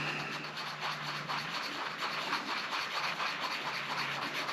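Steady scraping and rubbing as two-part JB Weld epoxy is stirred together for a coolant recovery tank repair, a continuous close gritty friction sound without pauses.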